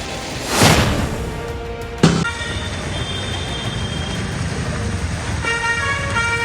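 Slow road traffic crawls through waterlogged city streets in Vasai-Virar during heavy rain, with a steady engine rumble, a loud close horn toot near the start and another sharp blast around two seconds, then lighter honks later.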